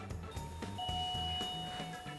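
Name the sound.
doorbell ringing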